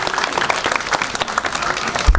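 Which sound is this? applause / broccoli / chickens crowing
applause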